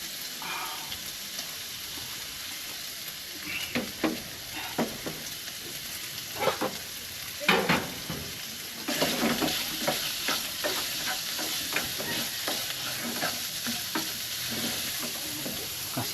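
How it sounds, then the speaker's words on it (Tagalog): Meat fries in a pan as its fat renders out, giving a steady close sizzle broken by repeated scraping stirs and crackling pops. "Pakupsan muna natin, oh, palabasin yung mantika"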